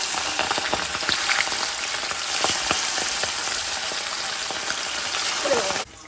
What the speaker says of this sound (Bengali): আমার এই পাশে মাছ ভাজা চলছে, এটাই শেষ।